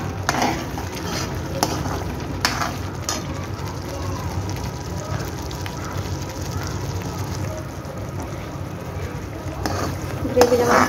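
Shahi paneer gravy sizzles and fries in oil as it is stirred in a pan, with a steady crackling bed and scattered scraping clicks of the spoon, under a voice speaking.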